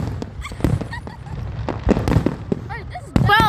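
Fireworks bursting and popping in a scattered series, with sharp cracks and whistling rising streaks, loud and close, while excited voices talk over them.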